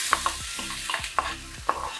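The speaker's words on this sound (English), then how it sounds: "And next I'm going to add onions, the chopped onions that you have chopped" Chopped onions sauté in a pan, a soft continuous sizzle with repeated spatula scrapes and light taps against the pan at an uneven rhythm.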